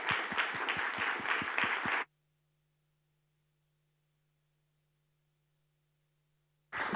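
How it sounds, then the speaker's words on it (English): An audience applauding panel speakers at a talk event, a brief burst of rhythmic clapping about two seconds long that cuts off abruptly into silence. "big round of applause for our amazing speakers"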